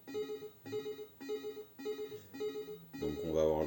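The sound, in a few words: short ringing jingle from a video game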